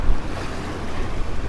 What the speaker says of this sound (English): We have some waves that are coming in